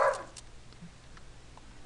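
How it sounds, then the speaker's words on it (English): One short dog bark at the very start, moderately loud, followed by low steady background hum. "Please excuse the barking."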